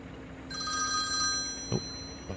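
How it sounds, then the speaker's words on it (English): A phone rings in the farming video game Farming Simulator 22 with a short, clear electronic ring tone. A brief thump follows near the end. "Oh, my phone's ringing here."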